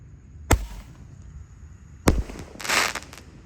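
Shots from an 8-shot Roman candle firework, two sharp close pops about a second and a half apart, followed by a hissing crackle of burning sparks.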